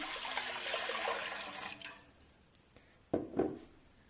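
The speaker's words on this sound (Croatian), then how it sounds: "Vodu sipamo u duboku šerpu" Water pours into a deep pot for boiling klepe, a continuous splashing rush for about two seconds that fades out, followed by a few sharp drips and a brief clatter near the end.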